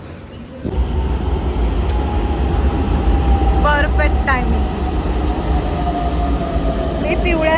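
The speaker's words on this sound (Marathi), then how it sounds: "स्टेशनच्या मध्ये उभी राहिले आणि मेट्रो आली" A metro train pulls into a station with a loud, steady low rumble and hum that begins abruptly and holds throughout, while someone talks briefly over it and faint tonal chimes sound in between.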